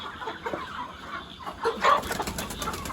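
Chickens in a poultry farm shed cluck and squawk, with wings flapping in a brief flurry, moderately close amid a busy flock.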